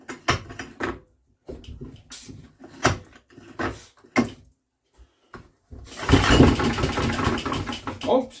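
A Villiers engine pulled by recoil start, several separate yanks with pauses between, then it catches and runs in a steady rough burst near the end, close by.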